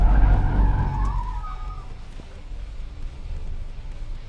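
A Hyundai i20 performs a handbrake turn, a loud tyre squeal and engine roar opening the moment, then fading to a lower rumble of the car rolling on.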